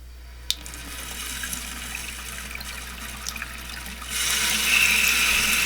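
An old leaking bathroom faucet is turned and water starts running, faint at first after a small click, then a louder steady hiss of flowing water near the end, no voices.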